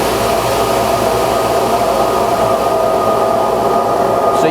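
Vibration test machine running at a light setting, a steady close hum and broadband rumble that holds at a constant level throughout with no pauses.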